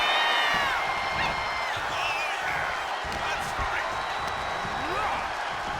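Crowd cheering and whooping in a WWE 2K25 wrestling match between The Bloodline and the Motor City Machine Guns, a steady loud arena roar with rising whistles and shouts running throughout.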